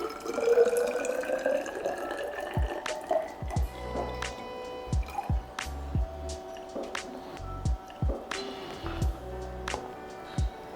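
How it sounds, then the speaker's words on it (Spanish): Distilled water is poured into a graduated cylinder in a chromatography lab, a trickling pour that breaks into a run of distinct, evenly spaced drips landing in the glass, close and clear. "Y le ponemos 100 mililitros de agua destilada."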